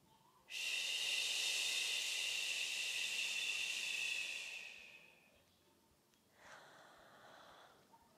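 Deep breathing during a qi gong exercise: one long, loud, hissing breath lasting about four seconds, fading out, followed after a pause by a shorter, softer breath, close and alone.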